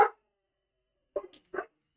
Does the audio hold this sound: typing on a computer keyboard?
no